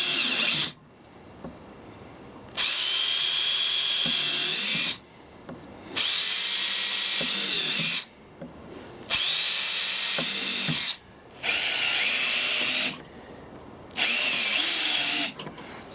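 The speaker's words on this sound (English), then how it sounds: "I'll drill the other half of these holes" A power drill whines in five separate bursts of a couple of seconds each, drilling holes in a plastic snow shovel, with short quiet pauses between, close and loud.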